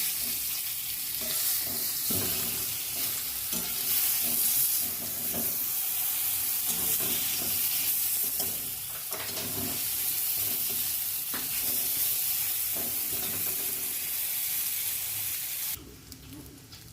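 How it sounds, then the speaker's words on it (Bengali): Eggplant slices sizzle steadily in a hot pan of oil, with intermittent scraping and stirring clatter, close and continuous, ending in a brief louder rustle. "আমার বেগুন ভাজাটা হয়ে গেছে"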